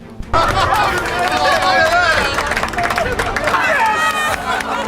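Passengers aboard a China Airlines airliner erupt in loud cheering and excited shouting after it lands and stops, with many overlapping voices close by and sustained throughout.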